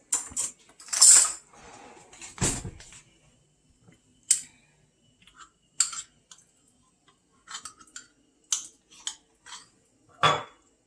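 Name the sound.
scooping marmalade out with a spoon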